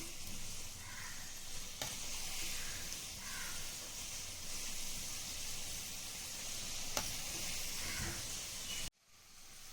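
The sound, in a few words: modak frying in oil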